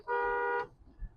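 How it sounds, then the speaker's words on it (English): A Tacoma pickup's horn gives one steady honk, held for about half a second, fairly loud over quiet road noise, aimed at farm trucks hauling tomatoes. "just honking at some farming trucks"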